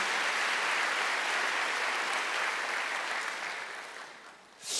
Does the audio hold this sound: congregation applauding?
yes